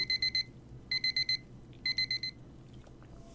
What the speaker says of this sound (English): It's really the exact same alarm sound as in Snooze by Lucy